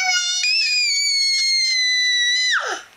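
A child lets out a long, shrill, sustained scream at full volume, holding the pitch for a couple of seconds before it breaks and drops off.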